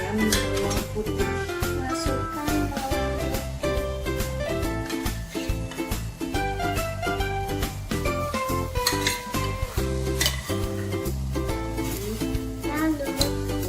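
Garlic goes into a pot on a stove at home and is stirred, giving clinking utensil-on-pan sounds and soft sizzling, busy and continuous under a rhythmic layer of background music.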